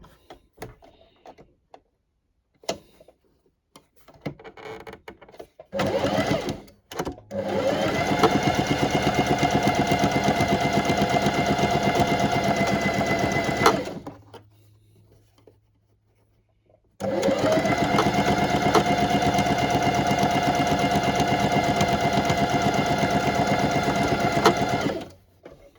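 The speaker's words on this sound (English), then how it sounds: "Hopefully my sewing machine won't be too noisy." A sewing machine stitches a Barbie doll dress in two long, loud, steady runs of whirring motor and needle, separated by a brief pause, with a few clicks at the start.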